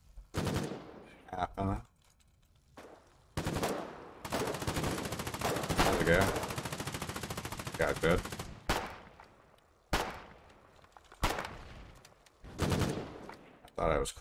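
Bursts of gunfire from the war game Foxhole, several loud rapid volleys separated by pauses, with one long sustained stretch of automatic fire in the middle; faint voices appear between shots.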